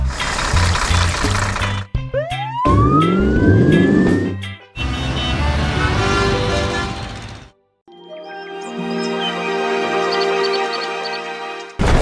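A blue police car siren wails loud and close, its pitch sweeping up and down and then switching to a different tone after a short gap, with traffic rumbling underneath.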